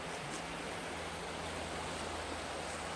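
Fast-running water of Wake Creek rushes in a dense, steady hiss close to the microphone, continuous and loud with no pauses or other sounds.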